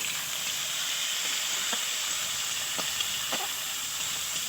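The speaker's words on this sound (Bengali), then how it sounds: "দেখো ফোড়নে দিচ্ছি কালো জিরে, পেঁয়াজ কুচনো" Black cumin seeds and chopped onion frying in hot oil in a kadai give a steady, close hiss with faint sizzle, broken by a few brief crackles.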